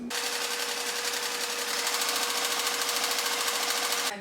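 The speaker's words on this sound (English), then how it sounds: "I'm gonna sew a straight edge" A sewing machine runs a straight seam along folded fabric, a rapid, even mechanical clatter that stays loud and close for about four seconds, then stops.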